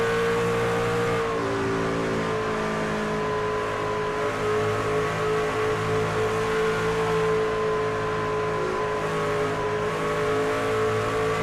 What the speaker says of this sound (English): You hear Whitmore just playing with the throttle just enough.